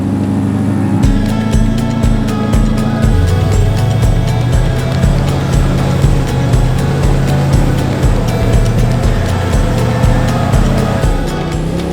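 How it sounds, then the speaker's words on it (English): Jeep engines drone and rev steadily while climbing an offroad hill at Hollerwood Park, Kentucky. A loud, continuous motor note rises and falls with rhythmic pulsing, and no talk is heard. "The first few Jeeps made it to the top with no problem."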